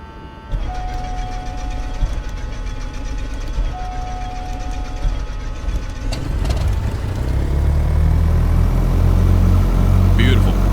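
A Diamond DA40 piston engine in the MSFS 2024 flight simulator cranks, then catches and settles into a steady, loud running drone, with a voice talking over it early on.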